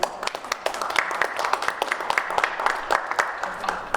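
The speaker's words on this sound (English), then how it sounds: "I heard your claps." Scattered clapping from several people, quick irregular claps overlapping into light applause, close and moderately loud.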